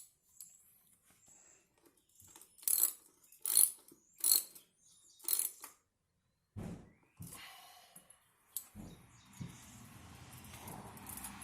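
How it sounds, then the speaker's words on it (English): Bolts are tightened with a ratcheting tool while an Ariel Rider X Class 52v electric bike is assembled: a few sharp clicking bursts, then a scrape and softer mechanical rattles, all close and fairly quiet with silent gaps between. "Give each of these a little tightening."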